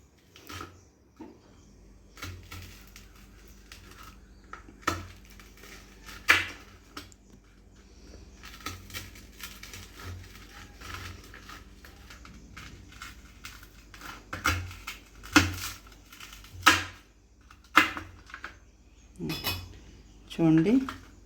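Crispy puffed rice chekki is cut into pieces, producing sharp, irregular cracks and clacks of a blade striking a plate or tray that grow louder and more frequent toward the end, over a quiet background.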